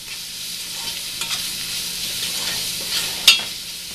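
Onions with turmeric powder sautéed in a pan for Tamil mutton curry, a soft continuous sizzle with light stirring scrapes and one sharp clink near the end, close and without speech.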